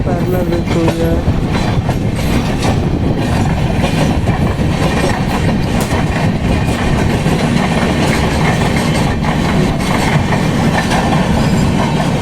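The 18189 Tata-Ernakulam Express train, heard from a 2AC coach, rumbles steadily along the rails, loud and close, with a continuous rolling roar and faint rhythmic clatter throughout.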